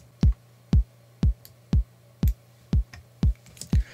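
A sampled 909 drum machine kick hits eight times at an even, steady tempo, each a punchy click dropping into a short deep boom, dry and up front over a faint low hum.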